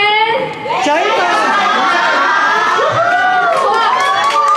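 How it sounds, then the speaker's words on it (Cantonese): Wedding guests at a ceremony cheering loudly for the newlyweds, many overlapping voices shouting and calling out together in a sustained, close, lively roar. "掌聲！"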